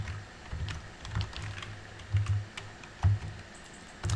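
Typing on a computer keyboard in short bursts of close, crisp key clicks separated by brief pauses, with no voices.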